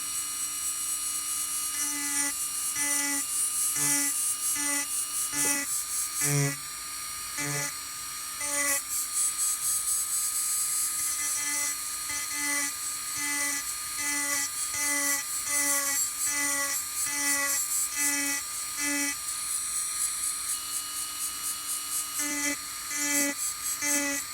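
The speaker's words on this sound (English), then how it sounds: "This can be done with any rotary tool. It doesn't have to be anything fancy. A Dremel would work fine." A rotary tool such as a Dremel carves a wooden owl with a steady high-pitched whine and rhythmic pulses as the bit cuts and lifts, continuous and close for the whole stretch, with no talking.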